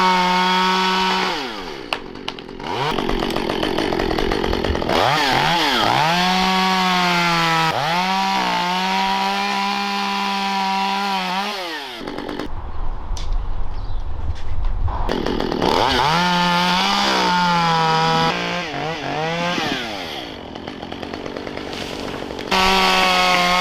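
A chainsaw cuts tree sections high above the ground, its loud close engine whining and revving in long strained bursts, briefly dropping to idle between cuts.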